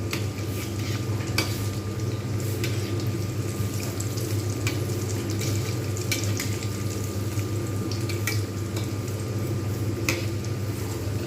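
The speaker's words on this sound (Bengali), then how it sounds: "এইরকমভাবে কিন্তু ধীরে ধীরে ভেজে নিতে হবে যাতে ভিতরটা ভালোভাবে কুক হয়" Chicken nuggets fry slowly in a pan, giving a steady, even sizzle with faint crackles and occasional brief clicks, close and continuous throughout.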